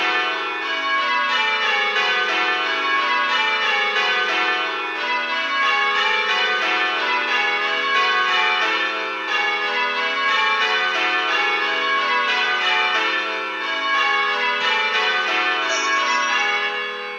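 Simulated church bells ring plain hunt to the Cloister Doubles method, a continuous, evenly paced cascade of clear bell strikes that moves through the changes with no voices.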